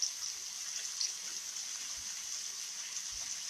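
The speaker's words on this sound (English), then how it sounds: "So I might want to rinse these off." Running water from a tap pours steadily over fresh sage leaves as they are rinsed, a continuous bright hiss with no talking.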